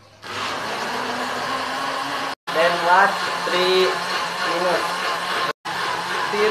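A blender runs with a steady, loud whir, blending milk, sugar and water, while a person talks over it throughout; the motor noise continues almost uninterrupted, with two very brief dropouts.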